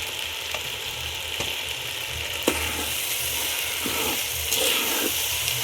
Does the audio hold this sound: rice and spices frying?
yes